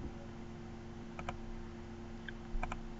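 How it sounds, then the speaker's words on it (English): Sparse key clicks on a computer keyboard as a user ID and password are typed, with a few quiet double taps over a steady background hum and no talking. "type your password"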